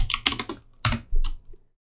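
Several close, crisp keystrokes on a computer keyboard while editing in Vim, a quick cluster followed by a few spaced taps, then silence.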